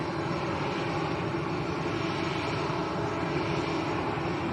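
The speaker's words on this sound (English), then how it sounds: "So this is Discover Airlines to Frankfurt in Germany. Airbus A320." Discover Airlines Airbus A320, a six-year-old jet at Lanzarote Arrecife Airport, gives off a steady broadband engine roar that holds even and continuous from start to finish, with no voices over it.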